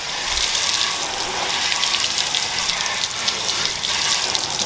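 A steady hiss of water spraying over a car during a final rinse after washing, continuous and fairly close, with no talk.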